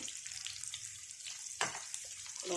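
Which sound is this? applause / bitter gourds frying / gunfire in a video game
bitter gourds frying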